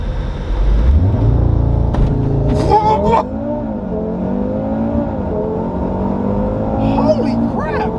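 A 2020 Audi RS3 making 600 wheel horsepower on E85 revs up and accelerates hard, its pitch climbing and falling through the gears, loud and close, with brief voices in between.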